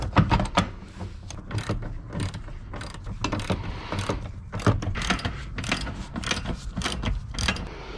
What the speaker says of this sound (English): I'm using a 15 socket here